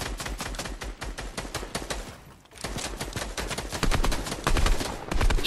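Automatic rifle fire in Fortnite during a duo match in Weeping Woods, rapid sustained bursts of loud gunshots with a brief lull midway before spamming resumes even harder.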